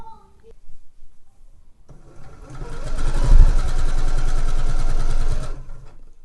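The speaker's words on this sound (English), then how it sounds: "So I'm now going to sew all the way down the outside leg" A sewing machine stitching down the outside leg of a pair of trousers, a steady close mechanical whir of several seconds that starts up after brief talking and stops abruptly.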